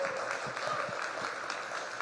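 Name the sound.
audience applause for a panel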